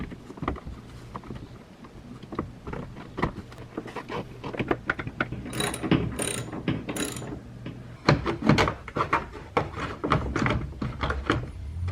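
A ratchet tightens bolts while a Kia Seltos radiator goes back in during a swap. Close, repeated bursts of quick mechanical clicking come in short runs with pauses, alongside light handling clatter.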